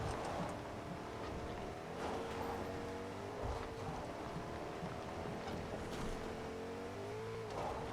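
Car driving in Fortnite, a continuous engine drone with wind-like rushing noise and a few swells, steady and moderately loud throughout.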